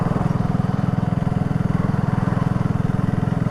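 BSA Gold Star single-cylinder motorcycle engine while riding, a steady loud pulsing thump with an even rapid beat, labouring slightly under load, close and continuous with no voices.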